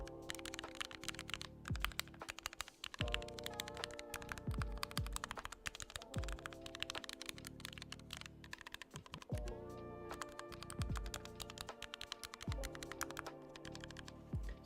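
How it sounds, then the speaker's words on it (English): Fast, continuous typing on a Framer Creator keyboard fitted with MX Silent switches, a dense stream of soft, muted key presses with a few heavier thuds, heard close and alone. "for those of you who are wondering what the MX silents sound like on the Framer Creator that's available now, this is what it sounds like"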